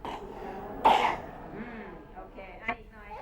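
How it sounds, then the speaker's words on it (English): A single short cough from a child showing signs of measles, heard once near the middle under a narrating adult voice. "signs: a cough,"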